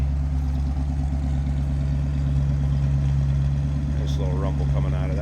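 A 1964 Mercury Comet Caliente convertible's 302 V8 idles with a steady, deep rumble close by, and a voice speaks briefly near the end.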